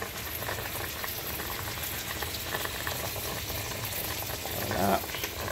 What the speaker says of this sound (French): On va encore laisser notre viande cuire mollo petit à petit.